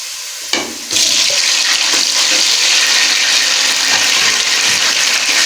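Tomatoes go into a pan of golden-brown fried onions for a vegetable macaroni dish; after a brief clatter, a loud, close sizzle bursts up and holds steady, with no talking.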